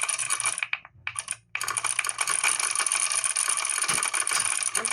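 Rapid, loud clattering of keys on a computer keyboard, dense continuous typing with one brief pause, close and unaccompanied by speech.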